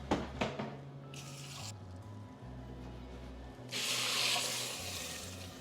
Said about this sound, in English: gonna add 2 cups of water.